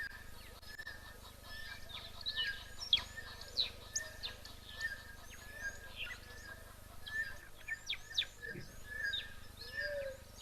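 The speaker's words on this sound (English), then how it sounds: "You can hear the guinea fowl in the background." Helmeted guinea fowl give repeated squeaky, creaking calls like an unoiled wheelbarrow at a bush waterhole, faint and somewhat distant, mixed with other bird chirps over a quiet outdoor background.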